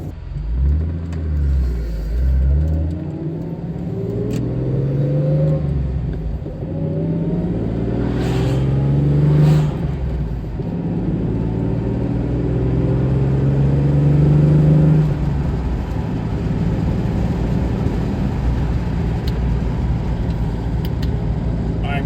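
A classic Jaguar XJS Arden engine revs and accelerates through several rising pulls, deep and throaty, heard close from inside the car through an open window with wind noise.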